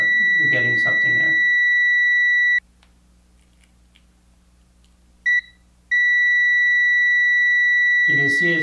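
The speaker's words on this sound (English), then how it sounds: "Another thing you test for continuity on the multimeter is just tap these and they'll just beep." A ZOTEK handheld automotive digital multimeter gives a steady, high electronic continuity beep as its probes touch, sounding for a few seconds, breaking off, chirping once briefly, then holding again. Someone talks before and after the tones.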